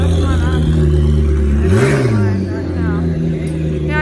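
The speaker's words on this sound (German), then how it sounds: "Hier kommt wieder natürlich ein super mega Auto angefahren." A sports car pulls up with its engine revving, a loud rising then falling mid-pitched roar close by, with street ambience and people talking over it.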